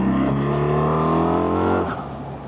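A 2025 BMW R1300RT motorcycle engine winds up hard under acceleration, a loud rising rev with harmonic tones that climbs for about two seconds and then eases off.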